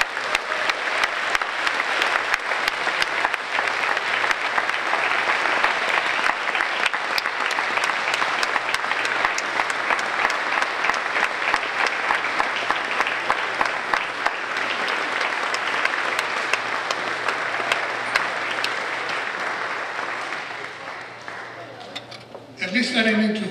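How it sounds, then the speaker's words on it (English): An audience at the National City State of the City address gives long applause for the mayor. The loud, dense clapping runs for over twenty seconds, with voices mixed in, and fades slightly near the end. "Please, let's give an applause to our mayor"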